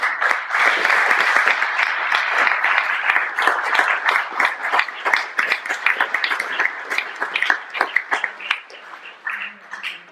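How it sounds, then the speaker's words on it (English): Hearty applause from a large audience at a Cuba Solidarity Campaign annual general meeting, dense clapping close and loud at first, then thinning into scattered claps toward the end. "I hope you'll join me in giving her a round of applause for this work"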